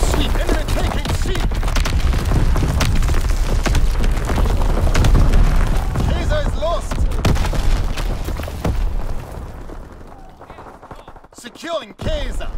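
Heavy mortar and incendiary explosions in Call of Duty: WWII, a dense, continuous barrage of booms and bursts that roars loud and thins toward the end, with scattered gunfire mixed in.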